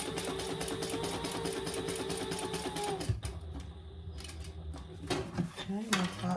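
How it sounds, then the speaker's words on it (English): A sewing machine top stitches a strap anchor for a retro-style sling bag, a rapid even run of needle strokes that stops about halfway, followed by handling clatter and a brief restart; a voice speaks over it. "I'm just top stitching my strap anchor right now."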